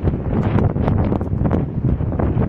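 Steady, blustery wind roars across the microphone with continuous low rumbling buffeting, loud and unbroken for the whole stretch.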